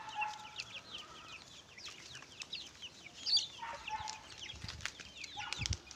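A busy flock of about 50 chickens, many black Australorps, cluck and chatter steadily, with occasional wing flaps and scattered bird calls, no talking.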